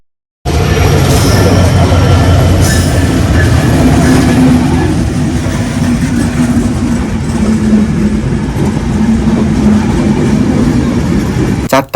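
A train passes at the Natore station crossing in Bangladesh, a loud, continuous rumble of wheels and rail clatter that fills the whole stretch after a brief silent start.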